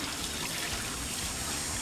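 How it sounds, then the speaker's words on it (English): Water runs from a hose into a Dell'Orto FRD34b carburetor from a 1956 VW Beetle during cleaning, a steady close trickling and splashing that stays even throughout. "Fill it up with a hose."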